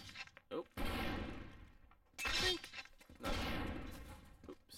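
Enemy robot firing at the player in the video game Clone Drone in the Danger Zone: bursts of loud, crackling shots come in several clusters over a sustained gritty game background, with brief gaps between volleys.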